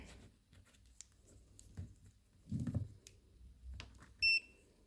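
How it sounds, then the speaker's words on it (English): Continuity beep from a multimeter probing a transistor during repair of a vintage Sansui audio system: one short, clear electronic tone near the end, preceded by faint handling clicks and probe taps. "if I go take my multimeter and check for continuity"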